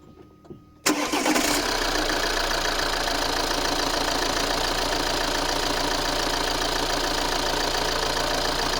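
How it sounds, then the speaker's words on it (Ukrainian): After a short quiet start, an Opel Insignia 2.0 engine with a turbo overboost fault cranks and catches abruptly, then settles into a loud, steady running drone that continues to the end. "Так, ну що ж, запускаємо двигун."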